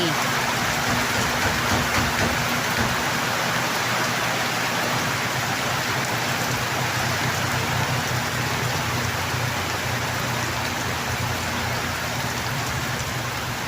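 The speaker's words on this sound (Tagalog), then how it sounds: "it's raining day." Steady rain falls on a rainy day, a dense even hiss of drops on surfaces throughout, constant and close with no pauses.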